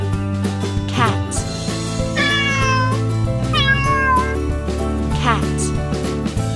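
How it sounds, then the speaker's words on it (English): A cat meows several times in rising, whining calls over a steady backing of music, with a voice naming colours and animals alongside. "cat"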